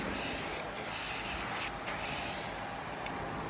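A paint spray gun hisses steadily and close up while dusting a light grab coat onto an El Camino during a facelift, broken by a few brief pauses in the spray.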